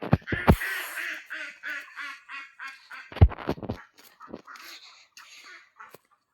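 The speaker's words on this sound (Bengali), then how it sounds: "আজকে হাঁসগুলোকে ছাড়া হয়নি পুকুরে" Ducks at a village home pond quack in a quick, irregular series, fairly close, with some louder bursts and brief gaps between calls.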